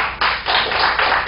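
A council chamber audience breaks into brief applause, a short burst of dense clapping that swells in waves for about a second, loud and close.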